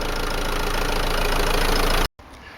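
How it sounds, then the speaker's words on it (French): A 2003 Peugeot 307 2.0 HDi 90 hp diesel engine idles with a steady, slightly knocking rumble, close by, then cuts out abruptly near the end. "donc le moteur tourne"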